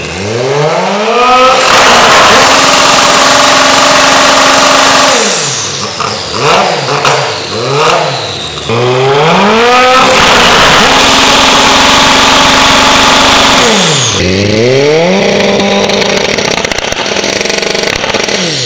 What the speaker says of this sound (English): rev limiter and anti-lag launch control is now calculated per cylinder